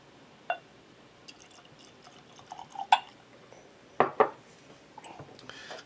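Water added to a glass of The Whistler Irish whiskey, a few sparse drips and clinks of glass, soft and close in a quiet room.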